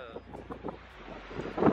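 Wind buffets an open microphone outdoors, producing low rumbling gusts and crackling that swell into a loud blast at the end.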